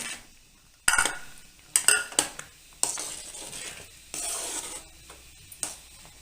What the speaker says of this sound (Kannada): ಕೈ ಹಿಡಿದು ಆಡಿಸ್ತಾ ಇರಬೇಕು